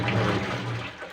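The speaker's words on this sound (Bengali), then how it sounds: "পানি বার করার সময়" Washing machine draining water during repair work, a steady loud rush and gurgle of flowing water close by with no speech.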